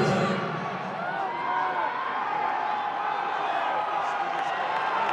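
Crowd noise from spectators at a Britain's Strongest Man strongman event, a steady roar of cheering and shouting that holds at a constant loud level throughout, with a few whoops rising above the din.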